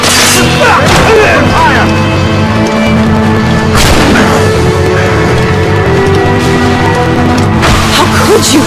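Heavy cannon fire from the Assassin's Creed Rogue video game booms loudly in about three separate blasts, spaced a few seconds apart, over a dense, noisy game soundscape.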